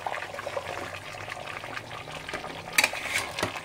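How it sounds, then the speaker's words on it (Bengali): Hot water poured into a pot of chicken and potatoes being cooked at home, a steady close splashing pour with a brief louder gush near the end, no voices. "এবার জল ঢেলে দেবো, গরম জল।"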